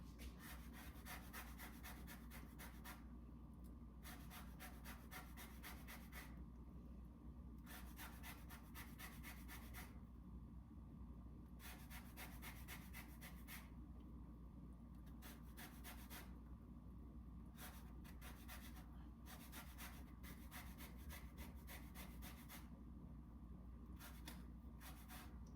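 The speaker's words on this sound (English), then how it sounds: "And then I'm gonna zest a little bit of lemon and put that into" Half of a medium lemon is zested for a lemon-rice soup, giving a steady run of soft, close rasping strokes at an even rhythm, quiet and continuous, with no talking.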